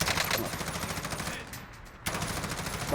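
Rapid bursts of gunfire from the video game Call of Duty Warzone, loud and dense, dropping out briefly midway before resuming; players' voices mix in faintly.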